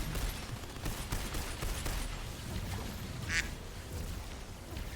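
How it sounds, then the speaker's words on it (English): Duck quacking sound effect from the video game Tiny Tina's Wonderlands, a string of close, rapid quacks mixed with bursts of gunfire-like noise and game clatter. "The duck noise."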